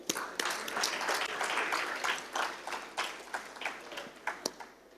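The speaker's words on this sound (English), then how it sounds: "clap for you" Brief clapping from a small audience at a corporate presentation, starting as a scattered burst and thinning into a few separate, distinct claps that fade toward the end.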